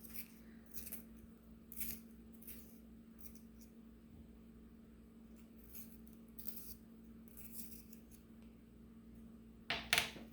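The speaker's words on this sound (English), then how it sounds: "I'm going to sharpen that pencil to a finer point." A pencil is sharpened to a finer point, giving short, quiet scraping and rasping bursts at irregular intervals over a low steady hum, with a louder burst near the end.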